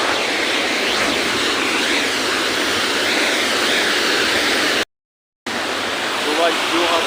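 A waterfall near Narsinghpur roars as steady, dense broadband rushing water that stays loud and constant. A brief full dropout cuts it partway through, and it picks up again afterward.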